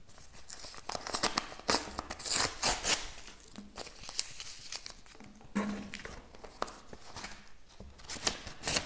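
A sealed paper envelope being torn open and handled, with repeated crisp tearing and crinkling bursts spread over several seconds, close and fairly quiet, with no talking.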